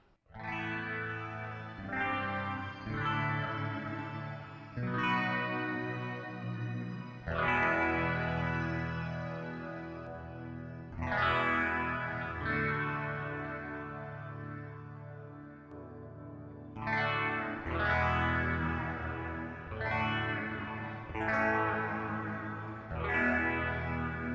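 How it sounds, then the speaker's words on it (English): An electric guitar played through a NUX multi-effects unit rings out heavily processed with chorus, echo and distortion, chords struck every few seconds and left to swell and decay. "I can move these effects anywhere I want along the signal chain, and we'll get a totally different sound"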